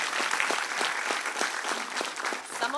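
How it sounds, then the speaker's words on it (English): Audience applause for a panel at a social sector conference, with sustained, even clapping from a crowd throughout. "Please give this panel a huge round of applause."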